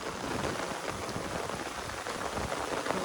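Steady heavy rain pours down on a hilltop at Hulangala, Matale, a dense, even hiss of drops on surfaces with no voices.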